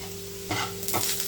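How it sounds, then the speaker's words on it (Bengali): Green chilies land in a pan of nearly fried onions, and the steady close sizzle swells into two louder hissing bursts as they hit the oil, with a faint hum beneath and no talking. "পেঁয়াজটা প্রায় ভাজা ভাজা হয়ে এসছে এক্ষুনি আমি কাঁচা লঙ্কা যে রেখেছিলাম কাঁচা লঙ্কা এখানে আমি দিয়ে দেব"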